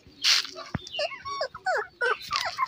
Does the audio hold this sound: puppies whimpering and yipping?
yes